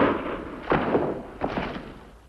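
A radio drama gunshot effect rings out as two dull, booming thuds about a second apart, each trailing off into a soft room wash.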